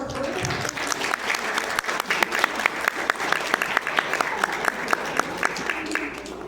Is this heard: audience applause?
yes